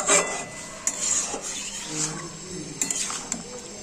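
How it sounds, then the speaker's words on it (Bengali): A utensil stirs bottle gourd curry with prawns in a pan, giving quiet scraping and clinking against the metal in an irregular rhythm, with a soft sizzle underneath. "এবার এটাকে আমি আরও ভালো করে কষাবো"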